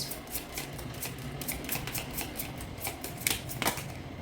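Tarot cards being shuffled and drawn, a close series of quick papery riffles and flicks in irregular bursts, a few sharper snaps near the end.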